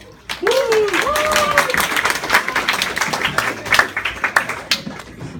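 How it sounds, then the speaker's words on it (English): A church audience claps and cheers for a man entering theology study, the applause rising abruptly and staying dense and close, with whoops and voices over it before thinning into scattered claps. "So give him a round of applause."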